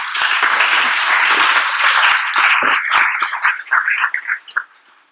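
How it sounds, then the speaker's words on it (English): A room full of people at a tech meetup claps steadily, loud and dense at first, then breaks into scattered individual claps that fade away. "give her a huge round of applause"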